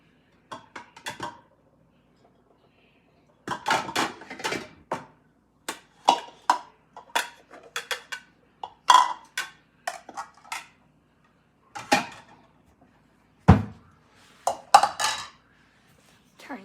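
Meatloaf liquid drained from a pan into a bowl, with scattered clinks and knocks of dishes and cutlery in short bursts separated by quiet pauses.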